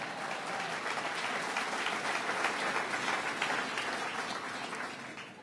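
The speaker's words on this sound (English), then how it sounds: "So give her a big round of applause." Big round of applause from the audience at a political campaign kickoff event in Syracuse, a steady, even wash of many hands clapping at moderate distance, sustained throughout without any voices.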